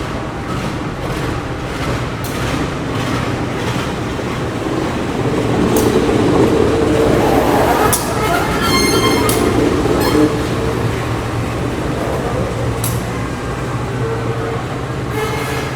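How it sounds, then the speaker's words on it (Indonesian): Sri Tanjung train locomotive shifting to track 2 at a station, a steady engine drone and rumble that swells in the middle, with brief high-pitched toots or squeals, no talk. "lokomotif kereta api Sri Tanjung udah berpindah ke jalur 2"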